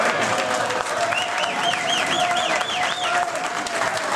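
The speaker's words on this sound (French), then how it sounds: "Plus que les applaudissements, je pense qu'il mérite un standing ovation." A standing audience gives Felix Mbayi a sustained ovation in Brussels, with dense continuous clapping and some whistles and cheers over it.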